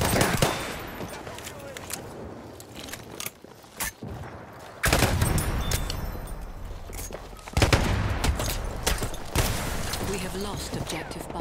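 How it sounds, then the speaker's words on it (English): Rapid machine gun fire and overlapping shots from a Battlefield 1 battle rattle in dense bursts for the whole stretch, with voices speaking over the gunfire. "There! Enemy machine gun!"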